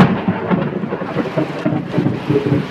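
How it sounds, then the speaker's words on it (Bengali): Heavy evening rain with thunder, a dense continuous downpour with deep rumbling thunder rolling underneath, loud and close throughout. "খুব জোরে বৃষ্টি হচ্ছে আমাদের এখানে।"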